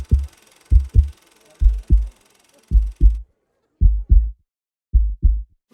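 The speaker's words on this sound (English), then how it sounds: "maybe their own heartbeat" Heartbeat in isolation, a steady lub-dub pattern of deep, low thumps repeating in pairs about once a second, close and loud against near silence, with a faint hiss in the first half.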